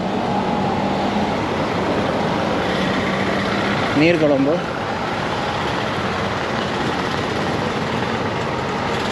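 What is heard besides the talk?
traffic on a busy road in Negombo, Sri Lanka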